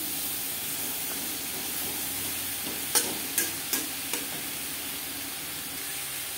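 Eggplant sizzles steadily in a hot pan for a bitter gourd and drumstick vegetable chochhori, with a continuous frying hiss and four sharp utensil clacks against the pan in quick succession as it is stirred.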